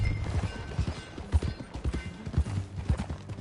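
Hooves of a horse in the video game Red Dead Redemption 2 clip-clop in an uneven, trotting rhythm, fairly close, with a faint whinny-like tone and some background sounds mixed in.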